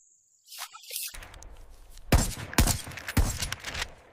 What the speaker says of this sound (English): That shot should be close enough to make them think twice about stepping forward into my part of the forest.